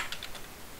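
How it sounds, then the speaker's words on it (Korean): A computer mouse double-clicked while selecting an object in the Unity editor: a few quick, light clicks close by in a quiet room. "두 번 클릭 떡떡 하면 되죠. 더블 클릭이라고 할게요."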